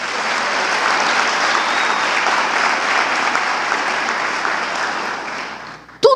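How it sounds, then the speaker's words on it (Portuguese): A church congregation breaks into sustained, loud applause during a sermon, dense even clapping that fills the room and then stops abruptly, followed by a short sharp sound. "Você pode aplaudir a Ele?"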